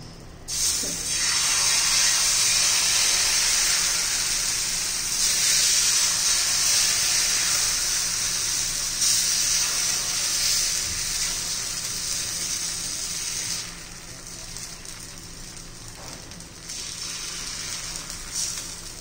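Water sprinkled onto a hot iron griddle sizzles and hisses loudly and steadily at close range, easing slightly in intensity toward the end.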